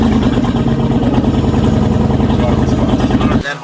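Supercharged Hellcat V8 in a Jeep Trackhawk running under a steady, loud, close idle with a pulsing rumble, then cut off abruptly near the end.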